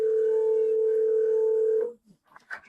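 A telephone sounds a steady dial tone for nearly two seconds, loud and close, then cuts off before faint shuffling noises and a short burst of sound.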